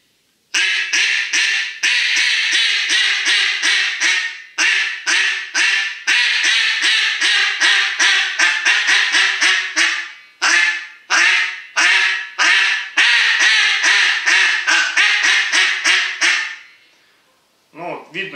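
A Buck Gardner Mallard Hammer duck call blown in rapid series of loud, harsh quacks and chattering bursts, close and sharp, running continuously for most of the stretch before a brief pause at the end.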